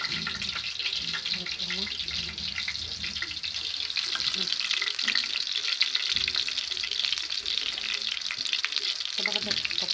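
Chicken frying and browning in a pan, a loud continuous sizzle with stirring clatter and brief talk over it.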